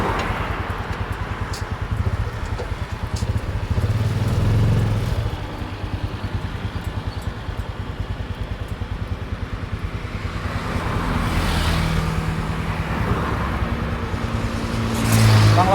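Steady road traffic with cars and motorcycles passing close by, a continuous engine rumble that swells as vehicles go past, loud and unbroken with no voices.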